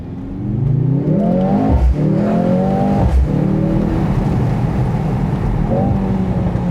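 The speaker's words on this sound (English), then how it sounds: "Those pops and bangs from that performance exhaust, you know, it never gets old." Loud, close engine of a 2025 Mercedes-AMG GLC 63 S E Performance revving hard under acceleration, with sharp exhaust pops cutting through around the gear changes before the pull resumes steadily.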